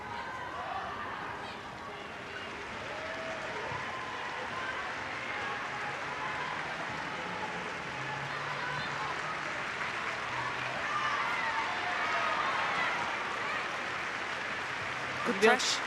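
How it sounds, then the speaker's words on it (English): Football fans at a Manchester City v Arsenal women's league match applaud in tribute during the 14th minute, sustained distant stadium clapping under a commentator's voice. "You'll be able to hear applause from the Arsenal fans."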